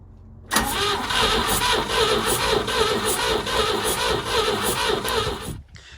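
A 1963 Chevrolet C10 engine cranking over, a sharp start into a steady, loud, rhythmic churn that runs for about five seconds before cutting off, with no one talking.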